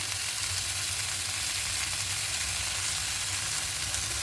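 Vegetables and prawns sauté in hot oil with ginger garlic paste, a steady close sizzle and frying hiss that runs without a break.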